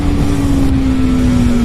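A Honda Hornet motorcycle engine, around twenty years old, with a loud steady drone that holds a single pitch at constant speed throughout, close by and alone.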